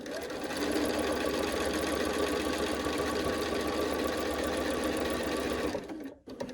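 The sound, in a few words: sewing machine stitching a quilt block seam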